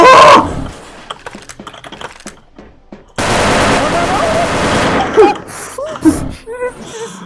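Bursts of AK rifle fire in the online shooter Wolfteam, rapid crackling volleys broken by pauses, with a long sustained stretch of automatic fire midway, close and loud, amid sparse game sounds and short voice-like blips.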